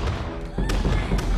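A cannon fires in Totally Accurate Battle Simulator, giving a couple of heavy booming blasts amid the noise of a chaotic battle, loud and close.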